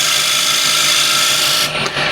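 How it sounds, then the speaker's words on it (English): A small skew chisel undercuts wood spinning on a lathe, giving a steady, close hissing scrape with a brief break near the end. "Small skew, just undercut this."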